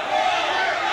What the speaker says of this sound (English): And the crowd is saying, no way.